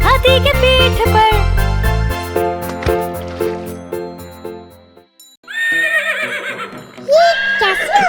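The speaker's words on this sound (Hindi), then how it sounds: "ये तो घोड़े के चलने की आवाज है।" Horse whinnying in an animated Hindi children's rhyme about animal friends: a cartoon horse gives bright, wavering neighs, one after another, over bouncy music, with no clear hoofbeats.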